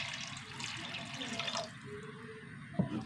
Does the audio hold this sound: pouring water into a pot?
yes